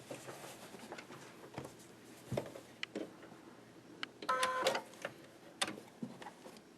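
A sewing machine stitches a seam across a fabric book cover in short, ticking bursts with pauses, with a louder rapid run near the middle and quieter clicks between.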